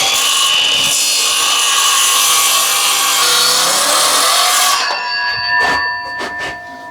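A power saw cutting through a wooden door to split it into a Dutch door, a loud close continuous grinding rasp for about five seconds, then a few scattered knocks and clatters as the cut ends.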